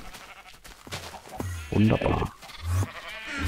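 Sheep bleating in the Minecraft video game, a few short in-game bleats mixed with someone talking over them.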